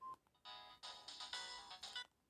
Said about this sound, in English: This over the horizon ringtone is very rare and is only used in this special phone.